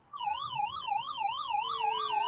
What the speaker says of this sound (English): the siren does get a bit a bit annoying